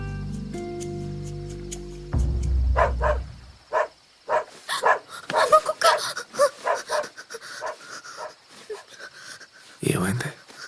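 Dog in a movie scene, barking in several sharp yips and bow-wows at mid distance amid background music and people talking, with a whimpering note near the end.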